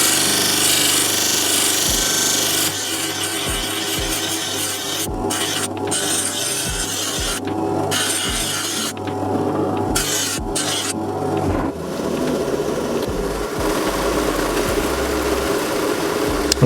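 Fresh lapidary grinding wheels shape a stone with a loud, continuous rasping grind over a motor hum, broken by repeated short gaps as the stone is lifted and pressed back on.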